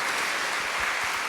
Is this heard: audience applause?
yes